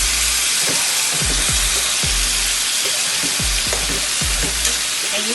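Oxtail with carrot cooking in a pot on a stove over medium heat, a loud steady sizzle and steamy hiss close up, with repeated scraping stirs and bubbling pops throughout.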